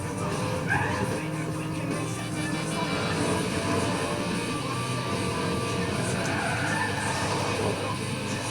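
A car in a PlayStation 2 racing video game drives with a steady, continuous engine roar and tire noise, loud and unbroken throughout, without talk over it.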